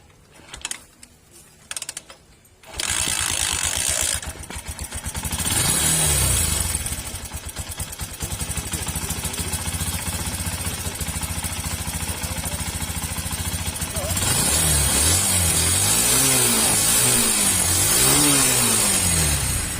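A Honda TMX125 Alpha motorcycle engine starts up and runs steadily close by, with its idle rising into several revs after a tune-up.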